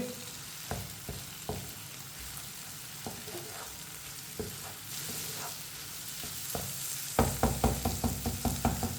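Bottle gourd and eggs frying and being stirred in a pan, a steady sizzle broken by repeated scraping strokes of a spatula that quicken into a rapid series of knocks near the end.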